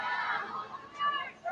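Chinese audience in Chengdu cheering loudly for the Chinese Taipei team at a World Games tug of war match, a dense crowd roar of shouting voices that swells and dips over about a second and a half.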